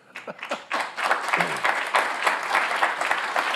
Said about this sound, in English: No one's clapped an introduction before.